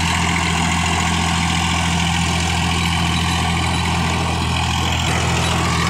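A Swaraj 744 FE tractor, working a seven-foot Fieldking rotavator in a field, runs with a loud, steady low engine drone heard up close, uninterrupted and with no talking.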